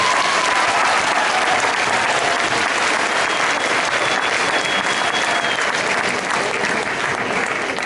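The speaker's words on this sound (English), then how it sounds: "Can we give the parents a round of applause?" Graduation crowd at a middle school ceremony giving sustained applause for the parents, a loud, even wash of many clapping hands that fills the whole stretch without letting up.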